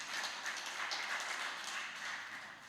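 A congregation applauding during a church service, a steady wash of many hands clapping that fades slightly toward the end.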